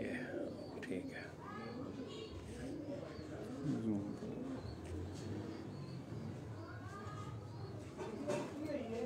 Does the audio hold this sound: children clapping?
no